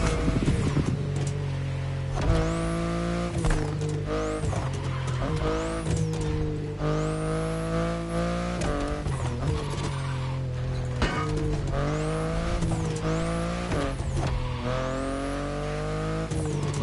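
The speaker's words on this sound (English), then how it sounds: "The BMW i8 is a car that stands out from the crowds." A BMW i8 car driving, its engine revving up and down in repeated rising and falling sweeps, loud and close, with short tire squeals now and then and no talking.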